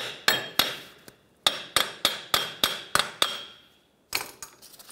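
A hammer drives a front axle through the steering knuckle of a 2012–2020 Ford Focus, sounding as about a dozen sharp, ringing metal blows in a fairly even rhythm with one short pause, with no talk.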